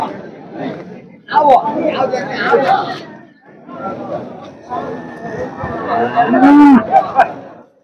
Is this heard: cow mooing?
yes